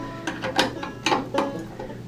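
Channel lock pliers unscrewing a faucet stem during a leaky faucet repair produce a series of short metallic scrapes and clicks, roughly five close, moderately loud grips and turns with no talk.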